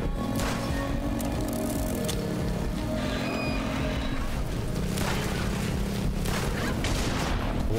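Mortar rounds fire and thud in the video game Serpent Scoots in Laika, heavy booms landing amid a dense, continuous wash of game sound and music.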